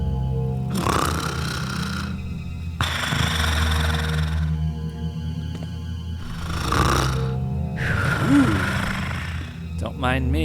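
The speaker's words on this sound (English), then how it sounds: "Do you snore as loud when you sleep on your stomach?" A character in Thief Gold snores in slow, regular cycles of raspy inhaled rumbles separated by quieter pauses, close and prominent, with a brief other sound at the very end.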